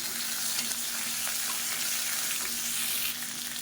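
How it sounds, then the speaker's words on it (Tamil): Onion, garlic and karpooravalli leaves sauté in a pan, giving a steady, close frying hiss with light stirring throughout and no voices. "இப்போ வெங்காயம் பூண்டு ஓரளவுக்கு நல்லா வதங்கிடுச்சு பாருங்கள்."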